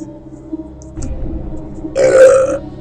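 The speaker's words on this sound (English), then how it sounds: "Excuse my burp." One loud, guttural burp comes up close after a brief stretch of low room noise, at a computer desk.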